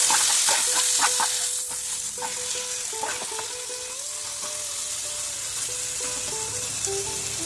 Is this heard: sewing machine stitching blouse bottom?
no